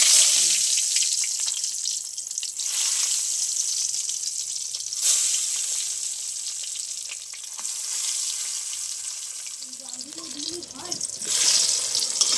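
Eggplant slices coated in salt and turmeric frying in hot oil, a continuous bright sizzle with occasional shifts and bursts as pieces are moved, and a voice speaking briefly near the end.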